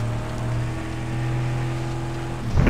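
A car engine in the Mad Max video game, not a V8, drones at a steady idle with a low constant rumble and a brief rise near the end.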